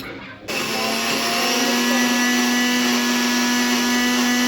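Mixer grinder grinding soaked chana dal and urad dal, a motor whirring up abruptly after a brief pause into a loud, steady high-pitched whine with a rattling grind that holds constant to the end.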